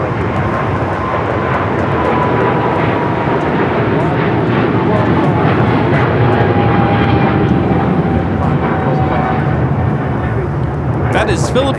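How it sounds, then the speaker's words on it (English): A Philippine Airlines Boeing 777-300ER on its takeoff roll at LAX, a loud continuous jet engine roar that holds steady throughout, heard from nearby with voices talking over it. "Philippine Airlines 113 taking off to Manila on the 777-300ER Mabuhay"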